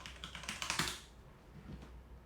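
Quick bursts of clattering keystrokes on a computer keyboard, a fast flurry in the first second, then scattered faint taps, close by and fairly quiet.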